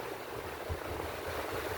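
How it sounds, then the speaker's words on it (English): Loud electric fan running in a room, a steady broadband whoosh with a low rumble, continuous and close throughout with no talk. "pardon the fan is very loud"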